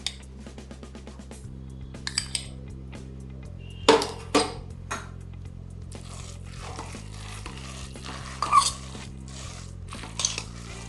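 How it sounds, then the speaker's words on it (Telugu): Semiya halwa being stirred with ghee in a pan, with intermittent scraping clinks of the spoon against metal over a steady background hum. "మిగతా నెయ్యి కూడా వేసుకుని కలుపుకోవాలి"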